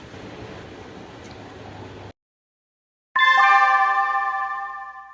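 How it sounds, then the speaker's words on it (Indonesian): A school break bell rings as a loud electronic chime of sustained tones after a hiss and a sudden second of silence, holding steady and slowly fading. "Loh, udah bel istirahat."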